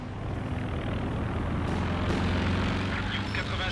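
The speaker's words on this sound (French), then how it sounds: "Stuka prêt à mitrailler." Stuka dive bomber from Company of Heroes 2 passing overhead as a steady, broad aircraft engine drone, loud throughout and rising slightly, mixed with game noise and a voice speaking over it.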